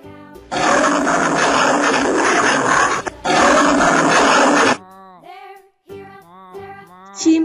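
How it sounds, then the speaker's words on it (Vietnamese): A lion gives two long, loud, rough roars close by, separated by a brief pause, followed by shorter grunting calls that fade off. "Con sư tử."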